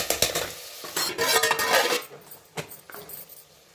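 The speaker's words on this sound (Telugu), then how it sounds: "ఒకసారి కలుపుకొని మూత వేసుకుందాం." Mutton is stirred in a metal pot for mutton curry, with scraping spoon-on-pot clatter and a few sharp metallic clinks, then quieter knocks as the lid goes on; no talking.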